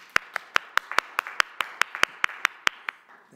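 At a city council meeting, a single person claps about fifteen times in a quick, even rhythm, each clap sharp and close, with a little faint background noise between them.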